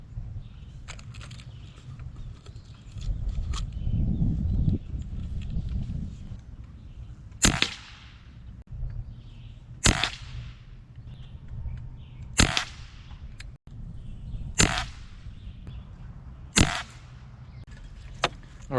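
A Beeman Commodore air rifle fires FX 18.13 grain pellets: five sharp, close cracks spaced roughly two and a half seconds apart over a low background hum.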